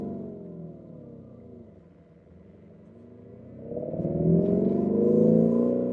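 A Lamborghini Urus engine idles with a low rumble, dips, then revs up loudly, its pitch climbing and holding at a throaty roar.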